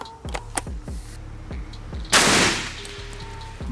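A single loud shotgun blast as a slug is fired at a padlock, a sharp broadband burst followed by a decaying roar, preceded and followed by a steady rhythmic mechanical clatter in the background.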